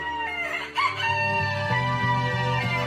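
Cartoon rooster crows loudly once near the start while chickens cluck busily beneath, with no voices over the short animal chorus.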